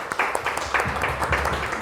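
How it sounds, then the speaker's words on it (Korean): A congregation claps at the close of a Korean Sunday worship service at a church in Dubai, a short burst of steady, mixed applause filling the hall. "하나님께 영광 박수 올립니다"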